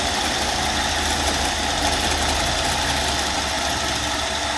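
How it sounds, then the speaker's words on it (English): A sharp drill bit drilling into metal on a 1989 Dodge W100 pickup under repair, giving a steady, loud, continuous grinding whir with no pauses. "That's a nice sharp drill."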